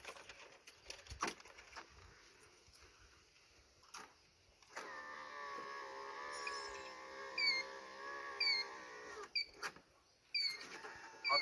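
An electric window motor on an Isuzu Dragon pickup, run from its door switch, whirs steadily for several seconds midway. It is preceded and followed by soft clicks and handling noises, with faint chirps in the background.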